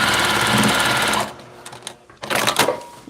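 A sewing machine stitches fabric in a busy, even run for just over a second, then stops; a few short clicks and a brief second burst of stitching follow.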